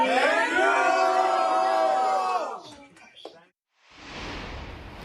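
A large crowd at a rally for President Trump cheers and whoops loudly and continuously for a couple of seconds, then fades into scattered shouts, a brief silence, and a renewed wash of distant crowd noise.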